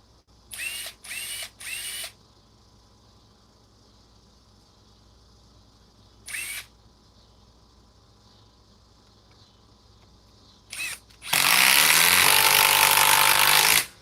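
Impact driver running in short bursts: three brief hammering rattles, a pause, another short burst, then one sustained loud hammering run of about three seconds, close and with no talking.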